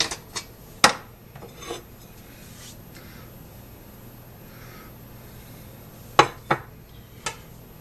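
A knife slicing through canned bread gives a few scattered scraping and clicking strokes, brief and fairly faint, with quiet pauses between cuts.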